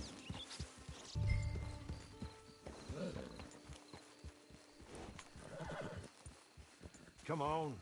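Horse neighing with steady clip-clop of hooves in the Red Dead Redemption 2 video game, a close whinny rising near the end over ambient game sounds while a voice talks.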